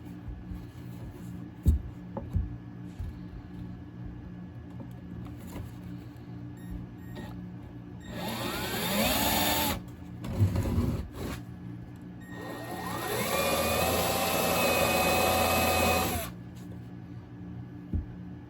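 A power drill whirs in two sustained bursts, driving screws into a wooden Christmas tree made of 1 1/2-inch stock, with a short pause and lighter handling clatter between runs.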